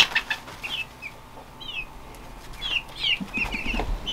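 Chickens clucking and chirping softly nearby, scattered calls over a low background hum, with a bit of rustling toward the end.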